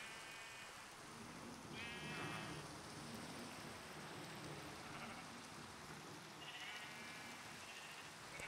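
Minecraft sheep give several short, wavering bleats, spaced a few seconds apart, above a constant hiss of rain.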